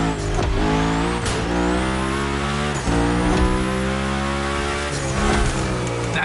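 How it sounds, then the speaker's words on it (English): Engine of a car drifting in the video game The Crew, loud and sustained with a whining rev that rises and falls, and tire squeal sliding through several drawn-out drifts. "Go slide his line, just follow his tire tracks."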